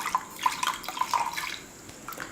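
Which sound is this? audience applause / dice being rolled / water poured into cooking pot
water poured into cooking pot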